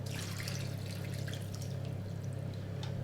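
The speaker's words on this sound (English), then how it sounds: "And then we're going to finish it up with some water to cover." Water poured into a pan over rabbit with butternut squash, carrot juice, prune juice and white wine, a steady close liquid wash running under a constant low kitchen hum.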